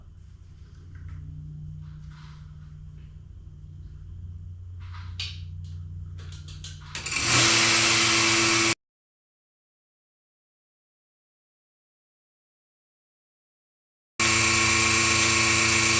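A milk preparation machine with a sealed lid runs a rinse cycle, starting as a loud steady motor and rushing-water roar that stops abruptly, then resumes after several seconds of silence.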